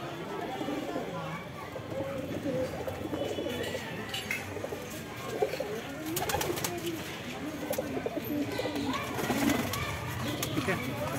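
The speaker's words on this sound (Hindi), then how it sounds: "हरा कबूतर है" Pigeons at a market stall selling desi, Madrasi and Punjabi breeds coo softly and repeatedly in the background, mixed with steady crowd chatter and someone talking close by.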